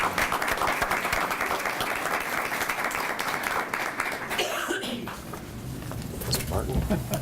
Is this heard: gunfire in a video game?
no